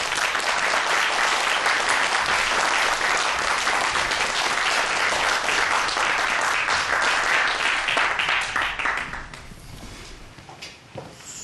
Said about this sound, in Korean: 오늘 강연을 맡아주실 김은수 교수님 박수로 무대 위로 모시도록 하겠습니다